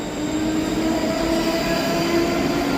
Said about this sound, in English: Departing out now is the 12:10 Scotrail service from Edinburgh Waverley to